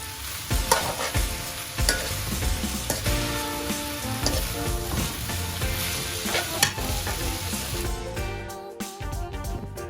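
Onions stirred as they fry in a pot for Sylheti nokul biryani, a steady loud sizzle with scraping spoon strokes throughout, ending in a quieter stretch near the close.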